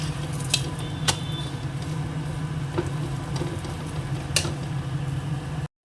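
Food frying in a pan gives a steady, close sizzle with a few sharp pops and utensil clinks scattered through it; no one speaks.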